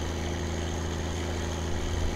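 In the video game My Summer Car, a car engine is over-revved and holds a steady, loud, buzzing drone with unchanging pitch and no talking.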